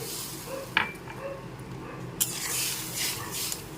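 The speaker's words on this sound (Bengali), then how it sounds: "নেড়ে চেড়ে মিশিয়ে নেওয়ার পর দিয়ে দিচ্ছি সামান্য পরিমাণ জল" A small splash of water goes into a pan of amra (hog plum) cooking with salt and turmeric, giving a brief hissing burst over low kitchen clatter, with a few sharp utensil clinks earlier.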